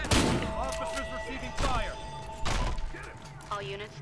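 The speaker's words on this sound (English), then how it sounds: "All units, 13 report shots fired at the location." Gunfire in the shooter game Battlefield Hardline, a few loud separate bursts of shots and thuds spaced a second or so apart, with radio voices and game speech around them.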